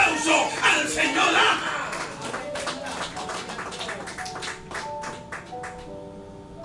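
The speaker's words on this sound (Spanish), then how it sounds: "Dale un aplauso al Señor." A worship congregation claps for the Lord during a Spanish-language praise service, a dense mix of hand claps and crowd noise that thins into sparser taps while sustained tones come in near the end.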